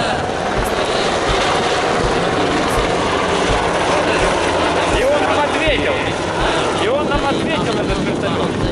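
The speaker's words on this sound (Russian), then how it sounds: "И он нам ответил этот вертолет." A helicopter over Snowdonia in North Wales produces a steady, loud engine and rotor drone that fills the whole stretch, with people talking close by over it.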